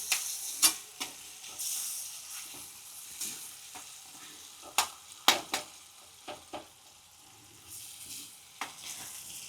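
Tomato gravy with turmeric for a Gujarati lila val shak simmers on a low flame, giving a soft, steady hiss broken by sharp, close scrapes and taps of a stirring spoon.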